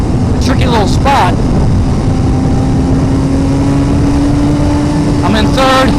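A 2017 Suzuki GSX-R1000R motorcycle engine drones steadily in third gear at mid throttle, a loud, close, continuous tone with only slight rise in pitch, with brief bursts of other noise at the start and end.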